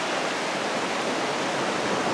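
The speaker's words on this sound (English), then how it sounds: "there's a little offshoot of the river and a nice little rapids, kind of small falls coming down right there" A small waterfall and rapids on a river offshoot in the woods make a steady, broad rushing roar, close and unbroken throughout.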